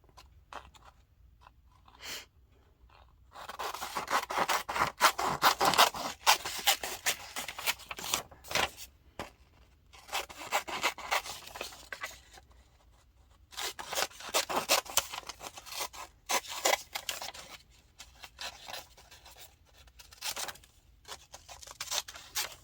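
Scissors cut a paper image out for soul collage art journaling, giving close bursts of snipping and paper rustling separated by quiet pauses.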